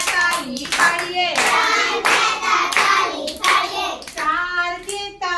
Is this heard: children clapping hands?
yes